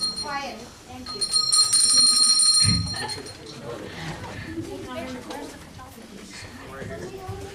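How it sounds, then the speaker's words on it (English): A bright bell rings for about a second at a fundraiser for Invisible Children of L.A., fairly close and clear, with people talking before and after it. "we have to ring the bell now"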